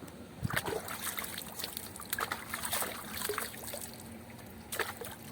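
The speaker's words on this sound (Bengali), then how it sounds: "হাত হাত ধুইতেছি এখান থেকে" Water trickles and splashes steadily as hands are washed outdoors, a close, uneven dribbling with brief louder splashes.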